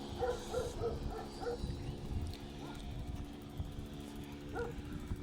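Dogs bark and yip in short repeated bursts at moderate distance, with some whimpering, over low background rumble, in the Kovalık area of Şarköy, Turkey.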